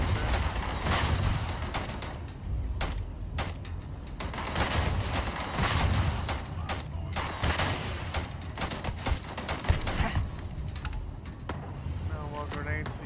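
Rapid bursts of weapon fire in the video game Starfield, including a grenade launcher, crack repeatedly through a dense, busy mix of in-game noise and a talking voice.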